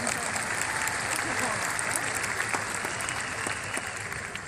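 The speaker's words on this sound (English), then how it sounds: "So I just want to give Kevin Costner an applause for that courage" Loud, dense applause from a large outdoor concert audience at the Hollywood Bowl for Kevin Costner, continuous clapping with scattered crowd voices, tapering slightly at the end.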